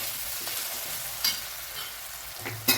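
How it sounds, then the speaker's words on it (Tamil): Chopped tomato sautéing in a pan for a Kerala-style chicken roast, giving a quiet, steady sizzle with two brief scraping stirs. "ஒரே ஒரு தக்காளியை நான் கட் பண்ணி எடுத்துருக்கேன் போட்டுக்கிறேன் அதுவும் இது கூட நல்லா வதக்கணுங்க"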